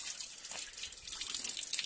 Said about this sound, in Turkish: yol kenarında yapılan çeşmemiz